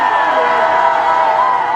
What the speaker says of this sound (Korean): 함성으로 시작하겠습니다.